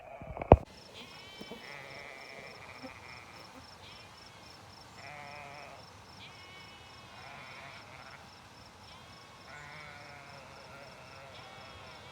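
Sheep in the Hay Day farm game bleat in a repeated series of short calls over a soft background, with a sharp click at the start and a steady high tone running throughout.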